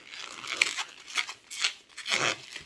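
A latex balloon twisted into a small 3 cm bubble for a water-gun balloon sculpture, giving several short squeaky, rubbing crinkles in separate bursts, close and fairly quiet with no talk.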